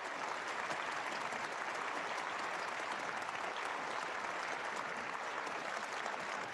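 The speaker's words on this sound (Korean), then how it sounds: "참 부모님께 감사와 찬양의 박수를" A large gathering offers applause of thanks and praise at a religious assembly, an even, continuous wash of many clapping hands, soft in level and steady from start to finish.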